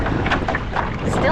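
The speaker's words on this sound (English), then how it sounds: "Still into the wind." Wind buffets the microphone during an outdoor running workout, giving a loud, continuous rumbling roar with faint voice-like traces.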